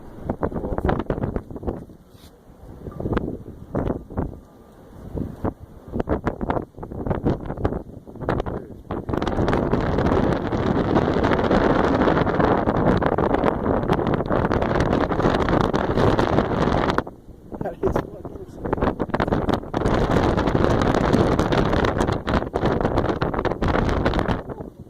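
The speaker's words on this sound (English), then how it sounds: "So windy up here." Strong wind buffets the microphone at the top of Giotto's bell tower in Florence, Italy, roaring loud and gusty throughout, with a brief lull near the start and another short dip partway through.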